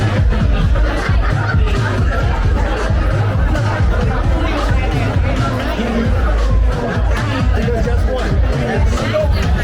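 Busy crowd at Fulton Market in Chicago's West Loop, a loud, continuous babble of many overlapping voices with scattered laughter, filling the space without pause.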